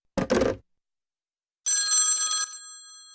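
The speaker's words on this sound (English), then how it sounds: "Stop ringing." An old telephone bell rings once in a radio-play scene, a bright metallic ring lasting about a second and decaying, preceded by a brief burst of voice.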